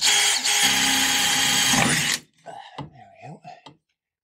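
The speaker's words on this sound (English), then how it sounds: "Let's get the drill on a low speed as well." A power drill at low speed whirs steadily for about two seconds with a grinding edge while installing a gauge in a VW, then stops, followed by a few short knocks and rattles.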